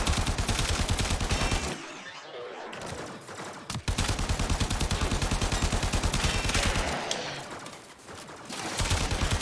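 Rapid automatic gunfire in the video game Warframe, long dense bursts of loud shots with a couple of short pauses between volleys, no talk over it.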